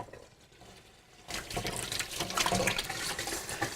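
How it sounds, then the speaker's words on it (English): Hands are washed under a tap. After a quiet start, running water bursts on and keeps splashing and hissing steadily at close range. "after I wash my hands"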